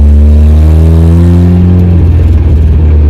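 A turbocharged 1994 Mazda Miata with a 230 hp engine revs loud and close, its engine note climbing and then breaking into a rough, fluttering burble as it comes off throttle.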